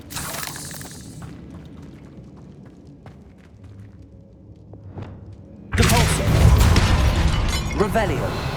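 Confringo blasting spells explode in Hogwarts Legacy, a burst of loud crashing, shattering blasts that starts partway through and keeps roaring after a quieter stretch of faint game ambience and clicks.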